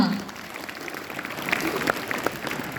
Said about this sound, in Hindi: इतने उत्कृष्ट प्रदर्शन के लिए, रौनक के लिए जोरदार तालियां